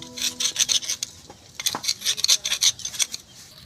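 A brush scrubs gas stove burner parts in quick bursts of rough, close scratching strokes, with short pauses between the clusters.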